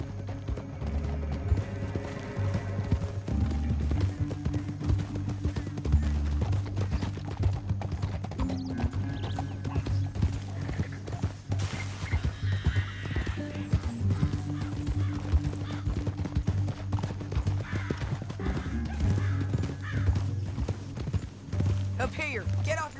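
Horses' hooves clip-clop steadily in Red Dead Redemption 2, with a whinny and a low music bed. The riding carries on under voices talking.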